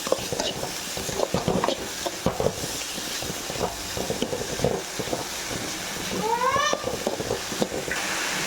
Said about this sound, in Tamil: அதையும் இதை போட்டு வதக்கிக்கலாம்.